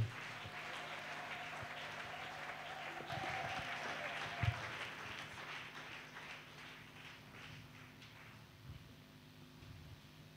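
A church congregation applauding during a French-language worship service, with steady clapping from many people filling the space at moderate loudness and a few sharper claps standing out.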